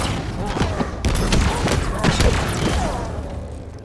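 Gunshots in Halo Infinite's Repository mission, a handful of loud, sharp cracks spaced about a second apart over a low ambient rumble, with a voice speaking among them.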